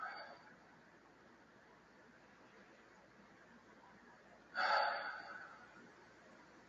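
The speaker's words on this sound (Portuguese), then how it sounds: "E solta pela boca." A person breathes out through the mouth in a short, clear exhale near the end, after quiet breathing.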